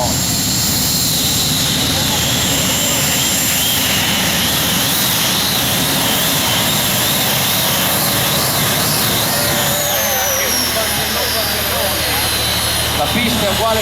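A pulling tractor roars down the track at a tractor pulling event in Fiume Veneto, a loud continuous engine howl that shifts pitch partway through, heard with a crowd and announcer talking over it.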